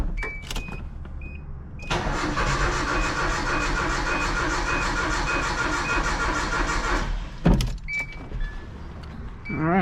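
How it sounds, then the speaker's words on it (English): A truck's KA24E engine cranks briefly, then catches and runs with a steady, loud rumble before cutting off; a short clunk and some movement follow. "crank the engine over"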